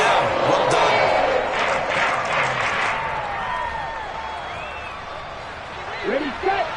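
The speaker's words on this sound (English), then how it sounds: "How about some applause for the defense there?" A stadium crowd at an American football game claps and roars for the defense after a forced throw into coverage, a broad wash of cheering that slowly fades while a commentator talks over it.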